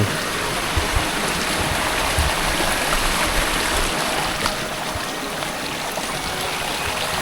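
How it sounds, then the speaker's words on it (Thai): Steady rushing water fills the whole stretch, a constant broadband wash of a creek flowing close by in a mountain valley village, with no voices. "เสียงน้ำไหล"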